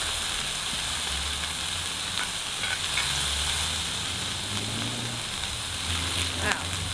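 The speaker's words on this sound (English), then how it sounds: "so I'm going to saute my vegetables. I'm just doing it right in a pan." Vegetables sauté in olive oil in a pan, making a continuous close sizzle and crackle with faint stirring scrapes throughout.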